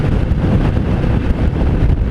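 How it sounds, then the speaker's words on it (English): Steady, loud wind roar buffets a rider on a 2018 Harley-Davidson Fat Bob 114 with no windshield, a dense continuous rush with no talk. "There's really no buffering between me and the wind."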